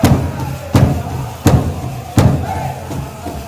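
A small crowd applauds and cheers in four loud bursts roughly every three-quarters of a second, each swelling then trailing off into a steady clapping din.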